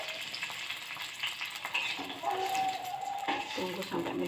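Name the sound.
spices frying in a pan as water is added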